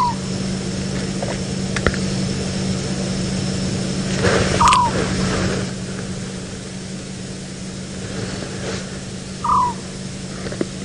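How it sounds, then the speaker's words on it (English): An African Scops Owl gives two short, purring calls several seconds apart during a sunset safari game drive, heard faintly over a constant low vehicle engine hum. "That's the African Scops Owl, one of my favorite little birds."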